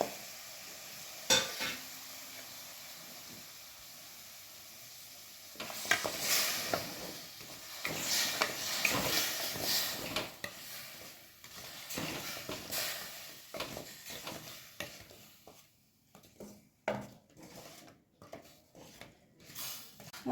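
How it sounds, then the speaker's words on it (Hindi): 250 grams of jaggery melts with two spoons of water in a pan on a low flame, giving a soft, uneven sizzle with bursts of stirring and scraping, quiet and close, without speech. "उसी सेम पैन में 2 चम्मच पानी डालें, फ्लेम को लो ही रखें और ये 250 ग्राम गुड़ डालें"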